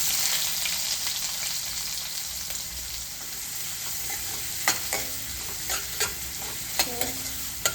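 Onions fry in a pan after cumin and asafoetida are added, giving a steady close sizzle with repeated scraping knocks of a spatula stirring toward the end.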